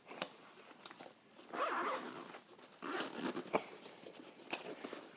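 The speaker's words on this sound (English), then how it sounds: "So what I want to do, just unzip it." Close zipper pulled open on the middle compartment of a Vanquest Falconer 27 or Maxpedition Falcon III backpack, heard as several ragged zipping strokes with small clicks and rustles between them, quiet and up close.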